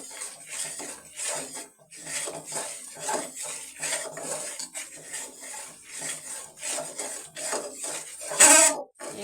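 A spoon scrapes and stirs spice paste in mustard oil in a pan for olive pickle, with repeated rhythmic metallic scrapes and clinks close up and one sharper clank near the end.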